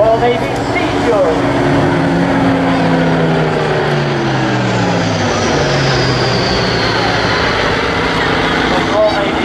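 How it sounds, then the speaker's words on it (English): Royal Navy Hawker Sea Fury flying past at an airshow, its piston engine drone loud and steady with pitch sliding downward as it passes, under a commentator's voice. "Now in for the right sweep on the Royal Navy Sea Fury."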